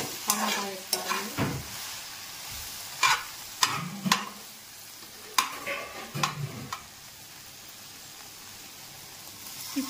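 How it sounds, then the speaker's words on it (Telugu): Okra frying in a pan and being stirred, with a steady low sizzle broken by a series of sharp spatula scrapes and clacks against the pan, clustered in the first seven seconds before it settles to quiet frying. "బెండకాయ బాగా మంటాలి"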